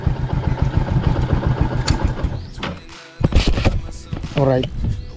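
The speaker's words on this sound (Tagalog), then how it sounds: "Parking yung motor sa may bahay." Motorcycle engine idling while being parked at a house, a steady low rumble running through most of the stretch, with a brief cut and mechanical clunks, under someone talking nearby.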